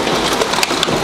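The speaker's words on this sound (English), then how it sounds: "there's a lot of hail piling up under the hood of the car" Large hailstones pounding down in a hailstorm, a dense loud rattling roar with scattered sharper cracks of stones striking hard surfaces close by.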